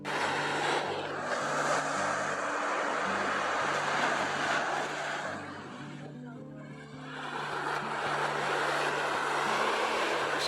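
Ocean waves at Makena Beach on Maui wash in as a steady, loud broadband roar, easing briefly around the middle before building again, with a low engine-like hum beneath.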